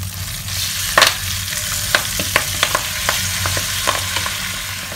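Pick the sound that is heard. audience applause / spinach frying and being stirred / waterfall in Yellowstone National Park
spinach frying and being stirred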